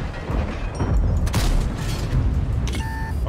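A tank gun shot in World of Tanks on the Mines map, a heavy booming blast with a long rumbling roll that fills the clip, with faint electronic beeps above it.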